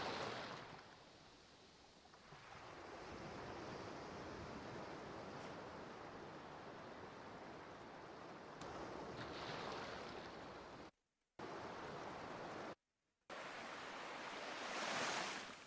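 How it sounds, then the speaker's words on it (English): Ocean surf washes and rolls in broad, continuous surges with windy noise mixed in. The sound swells toward the end and drops out in two brief silent gaps. "Like the ocean sweeping on the waves."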